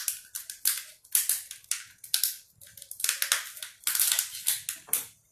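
Scissors snip repeatedly through craft material for a kid's bug project, a quick series of close, crisp cuts in uneven bursts with no talking.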